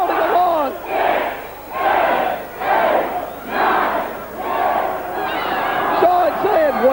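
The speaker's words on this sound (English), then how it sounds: "The crowd counting along." A wrestling arena crowd chants a count in unison, rhythmic swells of many voices rising and falling about once a second, loud and close, with a few individual shouts standing out near the end.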